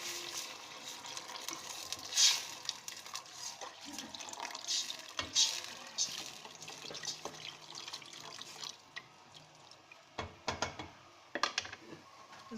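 Water poured into a pan of stuffed calamari frying with bay leaves and thyme, giving a close, fairly quiet sizzle and splash with bursts of hissing and clinks, no talking.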